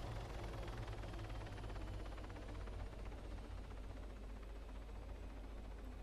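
A steady, faint helicopter rotor and engine drone runs unbroken during an emergency landing in the ArmA 3 video game, with no voices over it.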